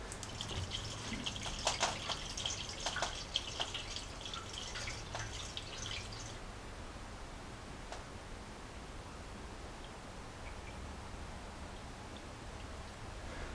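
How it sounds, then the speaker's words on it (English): Water pouring into the cooling system of a Jeep J10 during a rebuild, a close splashing and trickling stream for about six seconds that stops, leaving quiet hiss and an occasional drip. "I'm going to start filling this with water first."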